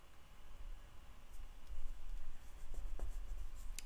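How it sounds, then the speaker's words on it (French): Handwriting on a scrapbooking page, a pen moving in soft scratchy strokes with a few brief ticks, close and quiet with no one talking. "il va me rester à écrire là"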